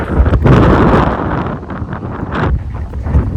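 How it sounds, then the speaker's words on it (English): Strong wind buffets the microphone outdoors on a gusty day, loud rumbling blasts that swell and ease throughout, with no one talking. "It's absolutely so windy."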